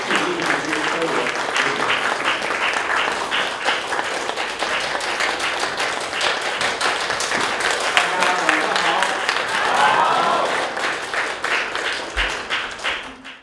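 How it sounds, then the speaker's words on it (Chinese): An audience at a business lecture applauds warmly to welcome the guest speaker. The clapping is steady and sustained, with some voices mixed in, swelling slightly before fading near the end. "那我们用热烈的掌声欢迎今天的主讲嘉宾"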